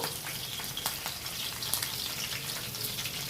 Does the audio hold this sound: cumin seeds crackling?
yes